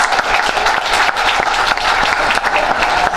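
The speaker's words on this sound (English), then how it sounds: "Give the Deputy Ambassador another round of applause" Sustained applause from a conference audience for a deputy ambassador at a careers in international affairs fair, dense steady clapping throughout with no pauses.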